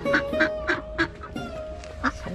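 Ducks honking and quacking among chickens in Manikganj, a series of about six or seven nasal calls in an uneven rhythm over steady background noise, fairly close.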